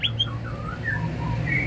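A white-rumped shama, the murai batu, sings a short run of clear whistled notes that slide up and down, heard against a steady low background hum.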